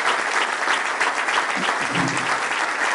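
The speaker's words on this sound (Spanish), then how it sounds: "pido un aplauso muy grande a toda la gente que hoy no está en la lista" An audience at a political list presentation applauds, dense sustained clapping that fills the whole stretch evenly, with faint voices briefly under it.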